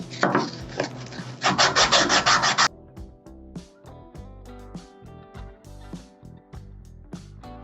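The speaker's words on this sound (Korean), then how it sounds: "180방 사포를 가지고" Hand sanding of a wooden piece's side edge with 180-grit sandpaper at a woodcraft event, a close, loud run of rough rasping strokes for a few seconds, then stopping into quiet room sounds and light handling.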